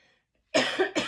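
Two harsh coughs in quick succession, close and fairly loud, after a brief quiet stretch.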